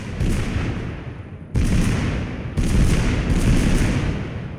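Grenade blasts in the video game Totally Accurate Battlegrounds: three loud, booming bursts in quick succession, each cutting in sharply and rumbling on without a break.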